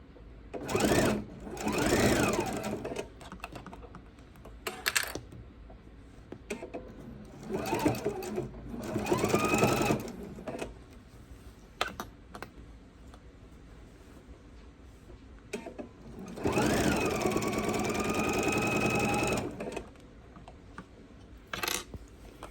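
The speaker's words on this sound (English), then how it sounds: "now I'm going to pivot and start sewing again" A sewing machine stitches the seam of a fabric bowl cozy in several bursts of fast mechanical whirring, close and clear, with brief pauses between runs as the fabric is pivoted.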